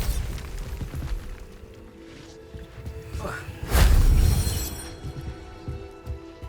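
A Bombarda spell from the wizarding game Hogwarts Legacy explodes in a single muffled boom with a whooshing burst at mid-clip, heard over low background game ambience.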